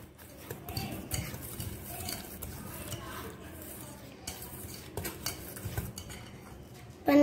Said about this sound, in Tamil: இப்போ இத கொஞ்சம் mix பண்ணிக்கலாம்